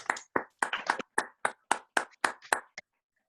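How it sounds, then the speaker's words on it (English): Sparse hands clap for honored volunteers at an appreciation event, roughly ten sharp, close claps in a slightly uneven rhythm before stopping abruptly. "So a round of applause again."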